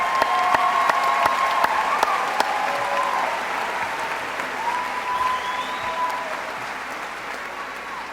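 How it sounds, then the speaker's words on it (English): Sustained audience applause at an evening recognition ceremony for graduating students, a steady wash of many hands clapping with a few sharper claps near the start, easing slightly in loudness toward the end. "We can give them a round of applause."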